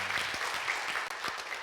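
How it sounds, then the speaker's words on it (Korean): A church congregation applauds steadily to welcome two new members at Sunday worship, a continuous wash of many hands clapping at moderate distance with no talk. "이 두 분 정말 감동 있는 박수로 우리 한번 힘차게 환영하도록 하겠습니다"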